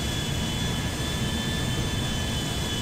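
An airplane in the GTA 5 video game flies and comes in to land, its jet engine a steady, loud, unbroken roar with no voices.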